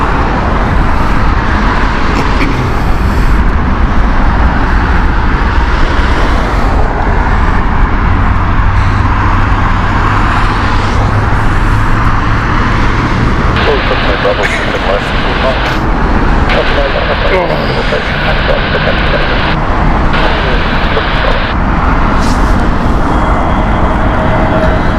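Airbus A321neo on a Barcelona flight at Heathrow Airport, its steady broadband engine roar filling the air alongside road traffic noise, with a voice talking over it at times.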